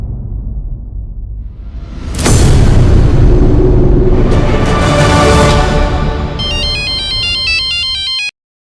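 A ringtone's stepped electronic tones chime for a couple of seconds near the end, after a loud rumbling swell and whooshing noise.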